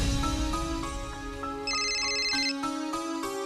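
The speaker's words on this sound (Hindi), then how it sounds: "मम्मी जी का फोन।" A melodic phone ringtone plays on its own, a looping electronic tune with bright chiming notes, fairly close and steady.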